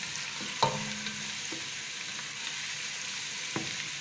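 Onions frying in a hot pan until lightly browned, a steady crackling hiss with a few soft clicks of stirring.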